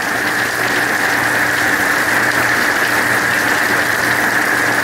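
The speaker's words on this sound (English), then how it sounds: "There we are, it's pouring down." Heavy, steady downpour during Hurricane Irma, a dense continuous hiss close by with a low rumbling undertone and no pauses.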